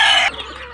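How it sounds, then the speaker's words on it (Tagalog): A mother hen with newly hatched chicks gives a single short, loud cluck close by, followed by faint background noise. "doon sa baba sa ating mga inahin na mayroong bagong pisang sisiw"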